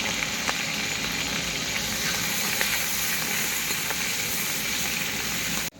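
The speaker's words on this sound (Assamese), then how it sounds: "এতিয়া পিঁয়াজ জলকীয়াটো আগতে ভাজি কৰি লওঁ।" Chopped onion and green chilli fry in a hot pan with a loud, steady sizzle and crackle that holds at an even level throughout, with no voices.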